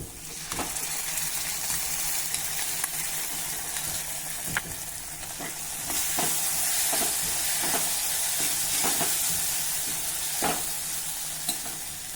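Poppy seed paste mixed into a frying masala in a pan for a Vidarbha-style khandoli curry, with a constant hiss of sizzling oil and repeated scrapes of a spoon stirring against the pan, close and steady.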